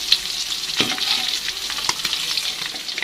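Tongkol fish fries in a small amount of oil, giving a steady close sizzle with scattered sharp crackles and pops. No one speaks.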